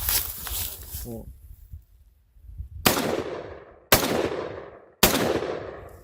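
Three loud, sharp gunshots from an AR-15 M4A1-style rifle firing green tip rounds at a tree trunk outdoors, spaced about a second apart, each ringing out with a long decaying echo; a voice speaks briefly before the shots.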